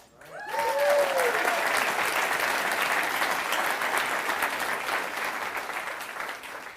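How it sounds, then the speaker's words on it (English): An audience at a large stage event bursts into loud, sustained applause that holds steady for several seconds, with a voice briefly speaking over the start of the clapping. "let's give a big round of applause for Alan Powell, who is here tonight"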